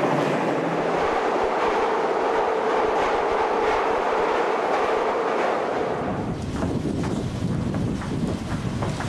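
Russian-built carriages of Budapest metro Line 2 run through a tunnel with a loud, continuous rumbling roar and rattling clatter, the tone shifting toward a harsher rushing noise near the end.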